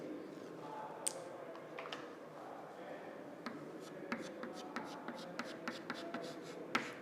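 Marker or chalk writing a reference axis on a board during an engineering lecture on centroids of composite sections, heard as a series of short, faint taps and squeaks spread over several seconds with soft room noise.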